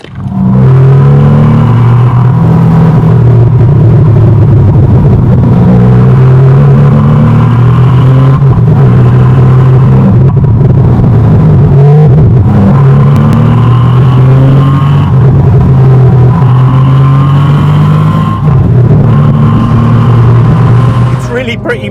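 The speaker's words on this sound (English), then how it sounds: "So let's take them out for a drive, Tony, see how they do." A Porsche 993 and a Porsche 996 C4S driving, with a loud, continuous engine drone and rumble that rises and falls with gear changes, while people talk over it throughout.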